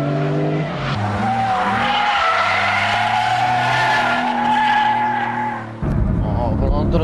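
A Porsche 911 GT3 drifting in Japan, its tires skidding and squealing in a loud, sustained screech with engine roar underneath, broken by a brief shift in pitch near the end.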